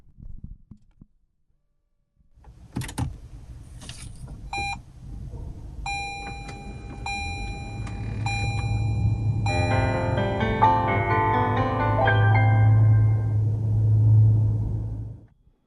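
A Toyota Prius start-up chime plays, a series of bright electronic tones ringing out over a low engine rumble that builds steadily, after a few clicks.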